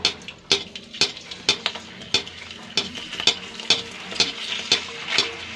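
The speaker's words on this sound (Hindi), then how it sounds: "थोड़ी थोड़ी भून रहा हूँ मैं" Spice powder is dry-roasted in a pan with a spatula, producing a series of regular scraping strokes roughly every half second over a soft background sizzle, close and fairly loud.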